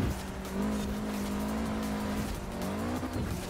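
A car tearing through a Forza Horizon 4 dirt race corner while understeering: engine drone holds steady under a sustained tonal tire squeal and skid that bends in pitch, loud and close throughout.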